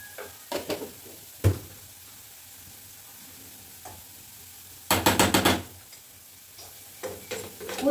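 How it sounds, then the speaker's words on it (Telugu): Potatoes frying in a pan with chilli powder, sounding as a faint low sizzle with intermittent scraping stir strokes and a louder cluster of clatters in the middle, no voices. "ఇదేమో నా ఆలుగడ్డలు అయితే ఫ్రై అవుతున్నాయి ఇక్కడ"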